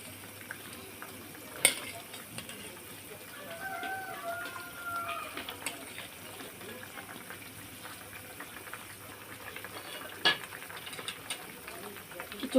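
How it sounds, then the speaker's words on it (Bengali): Fried hilsa fish being stirred into a pan of taro, heard as faint utensil scrapes and a few sharp clicks over a soft, steady sizzle, fairly quiet and close. "এই যে ভাজা ইলিশ মাছগুলো আমি দিয়ে দিলাম"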